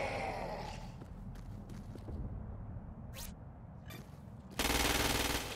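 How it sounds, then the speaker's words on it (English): Gunfire from the video game Crackdown 2: scattered single shots, then a loud sustained burst of automatic fire at the end, over a low game background. "Use precision targeting to shoot the freak's head or legs."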